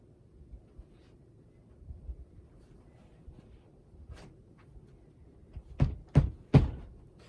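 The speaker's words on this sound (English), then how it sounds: "Whence is that knocking?" Knocking on a door in a staged Macbeth scene: after a quiet stretch, three loud, heavy knocks land in slow succession near the end, each a sharp thud with no talk over it.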